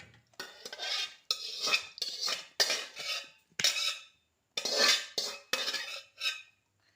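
Stirring Maggi noodles in a hot pan, with a run of close, distinct metal scrapes and clinks of a spoon against the pan in irregular strokes and short pauses between them.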